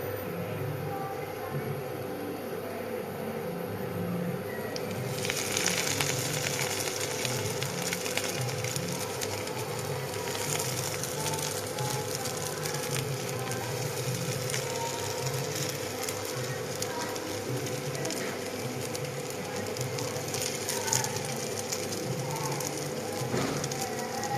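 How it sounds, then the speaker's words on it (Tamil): Bread frying in hot oil in a pan, toasted for a simple homemade recipe, gives a steady close crackling sizzle. The sizzle holds evenly for the full stretch with no clear speech over it. "எண்ணெய் சூடானதும் நம்ம என்ன அந்த பிளேட்டில் போட்டுடலாம்"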